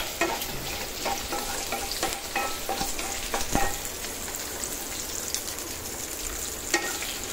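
Ginger, garlic and onion sizzle and fry in hot oil in a pan, a steady crackling hiss broken by frequent scraping and stirring strokes of a utensil, close and continuous throughout.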